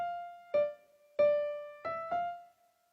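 Right hand on piano plays the first bar with slurred phrasing: four connected notes over a ringing tone, the last two closer together, clear and solo.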